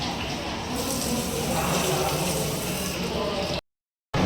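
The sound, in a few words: water from a tap, washing hands in a hotel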